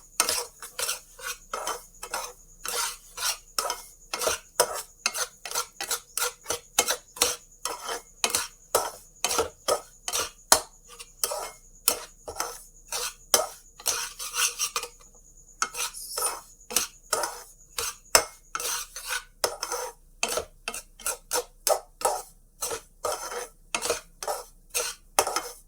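Semolina for upma is roasted in ghee and stirred briskly with a metal spoon in a pan, producing a long run of fast, rhythmic scraping clinks close up, steady throughout with a brief pause midway.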